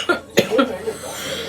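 A single short cough, then a softer second one, close and fairly loud in a quiet room, with a faint throat-clearing quality and no talk over it.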